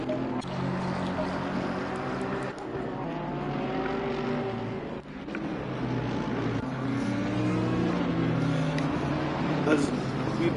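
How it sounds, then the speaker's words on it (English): Race cars lapping Misano in the Assetto Corsa Competizione sim game at the end of a New Year's race, steady layered engine drone with rising and falling pitch sweeps throughout, under continuous commentary. "As we've got the race leader across the line now with Ben Gallagher"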